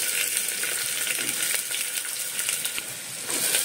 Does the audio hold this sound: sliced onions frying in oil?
yes